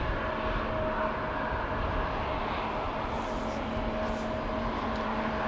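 Steady broadband jet roar from a KLM Airbus A321neo taking off at Amsterdam Schiphol, a continuous even rumble with faint steady tones, moderately distant and alone without voices.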